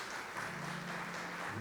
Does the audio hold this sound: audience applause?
yes